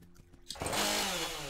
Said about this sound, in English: the chainsaw is really good against this, guys